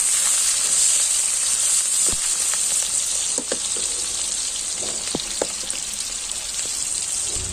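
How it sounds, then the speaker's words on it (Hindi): Chopped onions fry in a pan for a chicken curry with a loud, steady sizzle, broken by occasional scraping and clinks of a spoon stirring. "अब डाल देते हैं प्याज कटा हुआ और ब्राउन के होते तक चलते हैं इसको"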